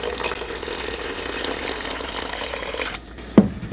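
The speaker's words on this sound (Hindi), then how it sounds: "अब हम इसके अंदर पानी ऐड करेंगे।" Water pours into a pot of mutton and oats for a daliya soup, a continuous close gush that stops abruptly and is followed by a single clunk.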